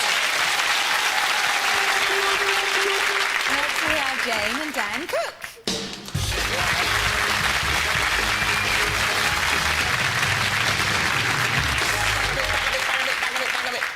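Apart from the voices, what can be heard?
TV studio audience applause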